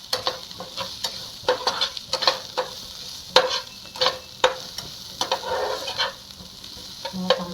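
Turmeric and red chilli powder sauté in a pan for Khandeshi eggplant bharit, with a steady soft sizzle broken by repeated rhythmic scraping strokes of a spoon stirring against the pan.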